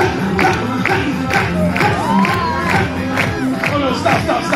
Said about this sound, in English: Now everybody clap, everybody clap, everybody clap